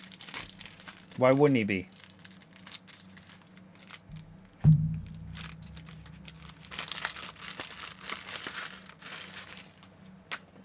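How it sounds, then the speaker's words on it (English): Plastic packaging on a Magic: The Gathering Final Fantasy Commander deck crinkles in close, bursty handling, with someone speaking briefly between the rustles. "Some crinkling plastic ASMR for you."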